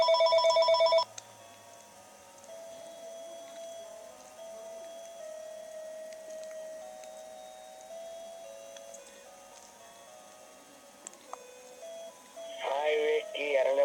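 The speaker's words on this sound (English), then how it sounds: "Call from Mylan Taylor." An electronic toy phone rings with a loud melodic ringtone burst, followed by a long, faint steady tone with scattered clicks, then a brief bright chiming return at the end.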